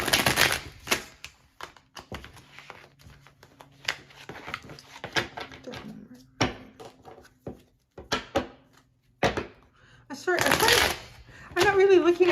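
A deck of Shadowscape Tarot cards is shuffled repeatedly, giving close riffling and soft slapping bursts with brief pauses; someone talks quietly in between.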